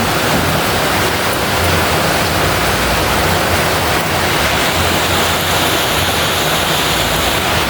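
Heavy rain pours down during a storm outdoors, a loud, dense, unbroken hiss of falling water that stays steady throughout, close and enveloping, with no voices.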